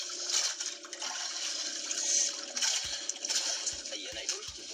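Strong river current rushes continuously, a loud steady wash of water with occasional splashes and low thumps near the end; no clear talking.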